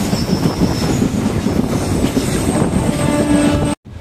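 A Tiruchendur to Tirunelveli passenger train rolls along with a loud, steady rumble of wheels on rail, high squeals over the top and faint clickety-clack, heard from close inside before cutting off abruptly at the end.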